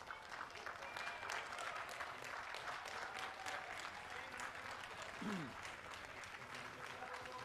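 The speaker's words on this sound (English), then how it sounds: "I'm sure you can just give them one final round of applause as they do their" Steady applause from an audience at a championship dog show's best-in-show lap of honour, a continuous wash of many hands clapping heard from a moderate distance, with a brief voice or whistle-like call partway through.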